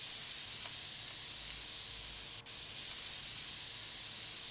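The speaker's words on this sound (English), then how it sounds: "let's get to our compressed air" Compressed air spraying in the PC Building Simulator game on Nintendo Switch, a steady, continuous loud hiss with one very brief dropout midway, no voices.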